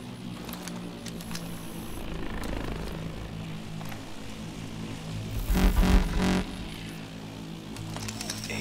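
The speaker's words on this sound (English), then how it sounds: "Chopper's moving off." A helicopter in the video game Call of Duty Advanced Warfare drones and moves off, its steady rotor rumble swelling briefly to a louder pulsing pass before settling into a continuous hum.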